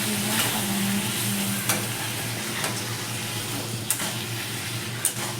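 Katla fish pieces fry in oil with a steady, close sizzle while being stirred, and occasional sharper scrapes and taps of the spatula against the pan punctuate the continuous hiss.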